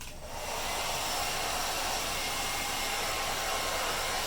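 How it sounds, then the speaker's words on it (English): A hair dryer blows continuously at full power on the high heat setting, a loud, steady airy roar with no voices. "now we're just going to do some more of the hairdryer"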